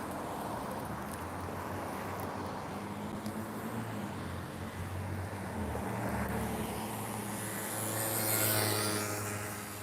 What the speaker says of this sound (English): there's all these cars going by and it's so loud